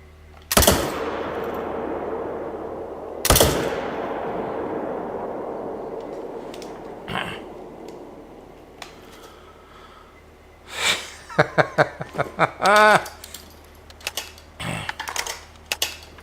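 Two sharp rifle shots ring out in theHunter: Call of the Wild, each followed by a long rolling echo, then clusters of short clicks and mechanical rattles from reloading or bolt action, with no one talking.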